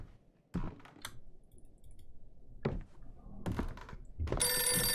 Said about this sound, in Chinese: 没事了，电话而已